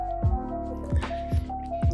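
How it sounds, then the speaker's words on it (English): Engine oil, 5W40, glugs and splashes in repeated bursts as it is poured into an Audi S4 engine, with close, wet thumps roughly every half second. "Go ahead and just pour the rest of this oil in that my dad had left over"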